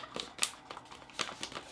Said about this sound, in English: Seal this up.